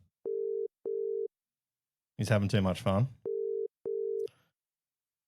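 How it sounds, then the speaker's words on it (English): Outgoing telephone call ringback tone: paired evenly spaced beeps, two before and two after a short burst of someone talking, clear and close. "Oh, it's ringing, so that's always a good start."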